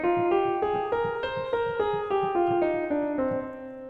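A C natural minor scale played note by note on a pitched instrument, climbing and then descending in evenly spaced, sustained tones, clear and alone with no voices.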